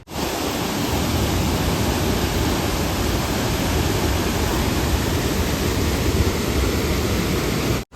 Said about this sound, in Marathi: हा जो धबधबा बघायला आलो आपण छोटा धबधबा साताऱ्यामध्ये